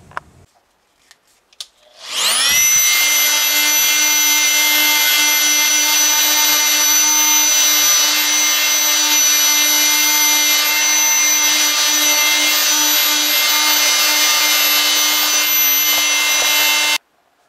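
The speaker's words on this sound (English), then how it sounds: "sand off the bottom of the saddle quick and dirty, real fast." Power sander grinding down the bottom of an acoustic guitar bridge saddle, spinning up after a few light taps, then a loud, steady high whine held for about fifteen seconds before cutting off abruptly.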